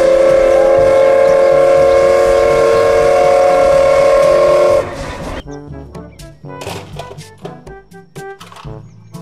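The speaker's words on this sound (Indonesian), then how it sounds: "Thomas." A toy Thomas train from a set of children's toy vehicles gives a sustained steam-whistle toot for about five seconds over a chugging rumble, then stops abruptly and is followed by plinky music.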